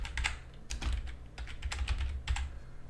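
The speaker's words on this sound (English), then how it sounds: "So now I'm just gonna type" Someone types on a computer keyboard nearby, with quick irregular bursts of key clicks and a few heavier thumps over a low background hum. Nobody speaks.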